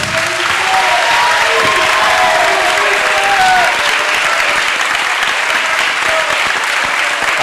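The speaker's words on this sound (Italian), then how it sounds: "Applauso, applauso forte, perché ne ha bisogno" A crowd at a football club's summer training-camp presentation in Dimaro Folgarida claps loudly and continuously, a sustained wash of applause with scattered cheers and calls rising above it.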